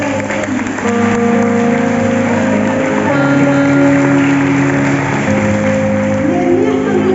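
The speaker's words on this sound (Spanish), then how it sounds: "le da el aplauso al Señor" A church congregation at a special service applauds loudly and steadily for several seconds, with a sustained musical tone underneath the clapping.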